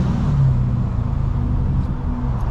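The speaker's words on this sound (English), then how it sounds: "We gonna rev the engine and see what happens." A Dodge Hellcat engine idles and revs at night, a loud steady low rumble with a slight rise in pitch early on, heard from inside the car.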